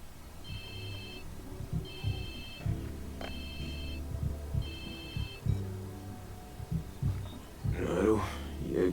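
A phone rings in the Watch Dogs 2 video game, four repeated electronic ring bursts in a steady rhythm over a low game soundtrack, ending in a clatter of noise.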